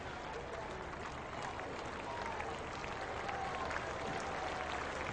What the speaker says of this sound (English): Applause around the ground.